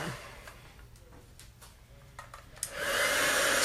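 A hair dryer switches on near the end and blows loudly and steadily over a chalk display board, after quieter handling noises.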